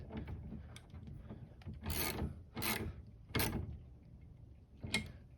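Fastener being tightened on a C6 Corvette windshield cowl after reinstalling the washer tube, heard as several short ratcheting bursts spaced about a second apart, fairly close and alone with no talk.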